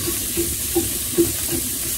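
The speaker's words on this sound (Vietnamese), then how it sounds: "Mình làm cho tôm chín trước ha. Và nhớ để lửa hơi vừa chút xíu để nó có độ nóng á," Shrimp fry in butter in a pan over medium heat with a steady close sizzle, while soft scraping stir strokes come at a regular pace.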